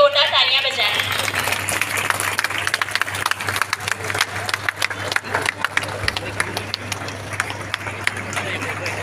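Loud, dense audience applause welcomes a guest at a Bhim Jayanti gathering in an e-library, with sustained clapping and crowd noise throughout and a steady electrical hum underneath.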